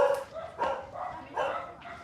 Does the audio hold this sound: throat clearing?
no